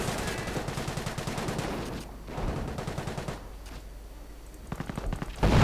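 Artillery barrage and bursts of gunfire in a 1v1 real-time strategy match, with a creeping barrage and a tank pushing through a base: dense rapid firing and booms throughout, thinning at moments, then swelling loud again at the end.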